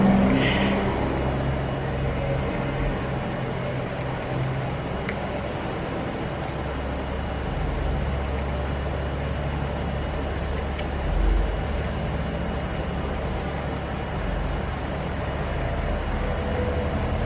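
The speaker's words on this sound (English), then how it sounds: "it's like nothing but trucks going by right now" Continuous low traffic rumble of heavy vehicles rolling past on a street, a steady broad roar with a brief swell midway.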